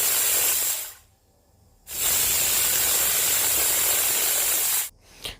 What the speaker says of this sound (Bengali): এবার আমি কুকারটা ঢাকনা লাগিয়ে 2 সিটি পর্যন্ত ওয়েট করব।